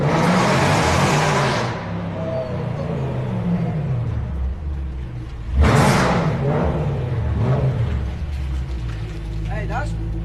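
A car fitted with a DreaM3 signature exhaust revs at high RPM in loud, rasping bursts, one at the start and a sharp spike midway, then settles into a rumbling idle while people talk nearby.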